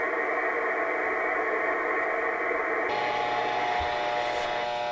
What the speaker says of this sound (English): Now listen to this radio here. See how that affects it? You can null out the noise.